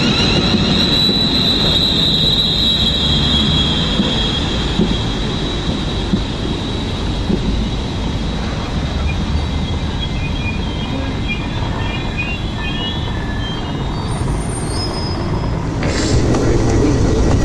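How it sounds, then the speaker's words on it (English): Intercity train on a British main line toward Milton Keynes and London Euston, running steadily on the rails with a continuous loud rumble and occasional faint wheel squeal, no talking. "We'll just get our train now."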